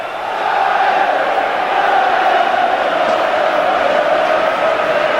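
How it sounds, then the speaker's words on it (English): A large football crowd at the 1995 Third Division play-off final at Wembley between Chesterfield and Bury keeps up a steady, loud roar of cheering that swells in after the opening half-second and holds evenly throughout. "Both teams have been recepted by the fans in spectacular fashion"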